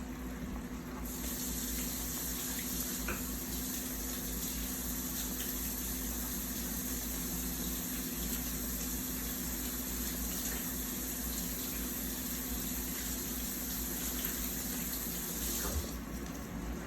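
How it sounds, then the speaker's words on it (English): A kitchen sink tap runs steadily for well over a quarter minute while hands are washed under the stream, a close, even rush of water with no talking. "I'm gonna wash my hands, y'all"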